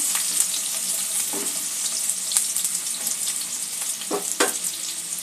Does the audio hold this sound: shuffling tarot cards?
no